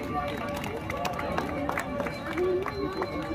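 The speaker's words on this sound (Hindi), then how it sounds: "जोरदार तालियां।" Crowd applause at a cricket tournament prize distribution ceremony, a continuous rattle of many hands clapping with scattered sharper claps, heard alongside background chatter and murmuring voices.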